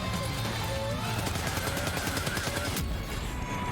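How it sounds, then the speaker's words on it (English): Rapid gunfire in Death Stranding 2 aimed at an enemy, a dense continuous burst of shots layered over a busy game soundscape of music and effects, with a sharper crack near the end. "I can probably just shoot it"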